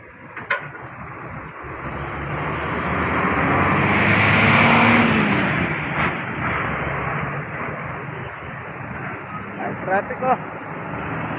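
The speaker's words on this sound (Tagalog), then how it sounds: "Grabe ang traffic dito." Road traffic in Meycauayan, Bulacan: a vehicle's engine swells loudly close by and fades, over constant street noise, with a few sharp knocks and brief bits of talk near the end.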